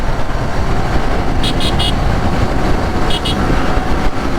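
A night coach bus rushes along a highway at night while overtaking another bus, its steady engine and road roar constant throughout, broken by a few short horn toots.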